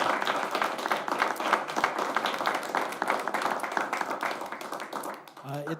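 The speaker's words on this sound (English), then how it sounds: "I want to have everybody give a round of applause to our candidates here tonight." A room full of people at a city candidates night in Lindon applauds the candidates, with sustained, dense clapping filling the space until a voice begins speaking at the very end.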